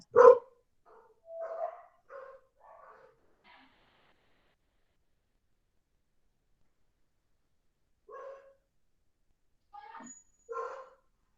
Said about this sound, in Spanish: ¿Se escucha el perro?